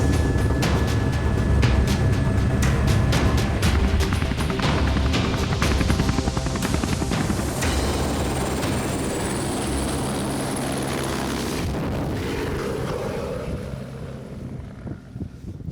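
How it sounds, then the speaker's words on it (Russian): A helicopter in flight on a hunting trip in Kolyma, its rotor thudding in a fast steady rhythm with a loud engine roar and wind buffeting close to the microphone, easing slightly toward the end. "Для экономии времени добраться в это место решили вертолетом."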